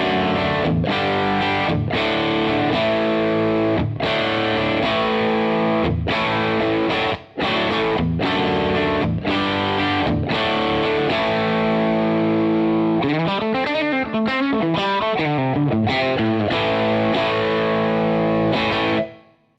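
Divided By 13 RSA23 boutique guitar amp playing a driven, distorted electric guitar tone: loud sustained chords with rhythmic stops, then wavering bent notes near the end, with no talking.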